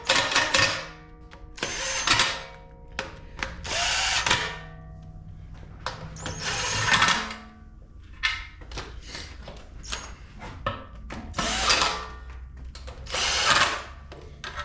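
A power tool tightens oil pan bolts on a Bel Air 5.3 engine in repeated loud whirring bursts with short gaps, close and sharp.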